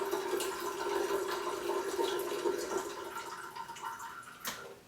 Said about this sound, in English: I'll just put a little bit of water in here